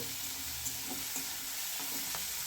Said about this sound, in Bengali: এই মটরশুঁটিটাও আমি আলুর সঙ্গে ভেজে নেব